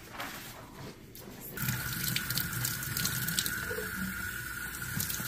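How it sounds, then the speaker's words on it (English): Hot tap water rinsing canning jars, a faint trickle at first that swells into a steady, close gush of running water filling and splashing in a sink. "go ahead and rinse my jars in really, really hot water"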